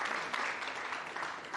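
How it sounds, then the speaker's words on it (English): An audience at a public-service retreat session claps for a speaker, a short, steady patter of many hands at moderate loudness. "I do think he deserves an applause"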